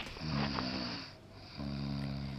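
Loud, close snoring in two long drawn-out breaths, each a buzzing, rasping rumble with a short pause between them, imitating a sleeping bear.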